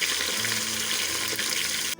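Chicken pieces frying in hot oil, a loud, steady, close sizzling hiss that runs unbroken before cutting off abruptly.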